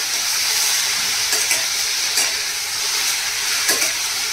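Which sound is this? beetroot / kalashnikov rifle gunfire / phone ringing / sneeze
beetroot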